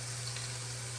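Onion browning in a hot pan gives off a close, steady sizzle, dense and even, with a low hum underneath and no voices.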